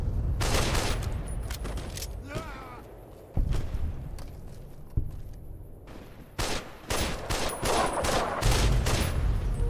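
Gunfire in Fallout New Vegas: loud rapid bursts of shots and sharp single reports, some echoing, with brief lulls between volleys.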